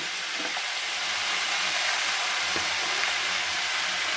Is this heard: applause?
no